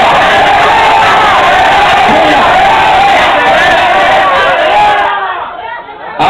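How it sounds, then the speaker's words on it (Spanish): A dense crowd cheers, whoops and shouts for a costume contestant at a Halloween party in Duitama, Boyacá, the roar holding steady for about five seconds, then dropping away abruptly. "Aplausos por el príncipe."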